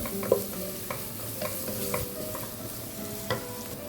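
Pepper powder being stirred into a chicken mayonnaise curry in a pan, soft sizzling under repeated scraping and knocking of a spoon against the pan, close and fairly quiet, no talking.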